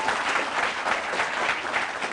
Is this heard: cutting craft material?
no